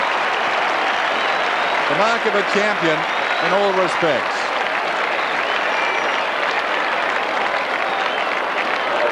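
Stadium crowd at an Australian football match between Essendon and West Coast at Windy Hill in 1990, applauding a mark with a steady, broad roar of clapping and cheering throughout, while a commentator talks over it.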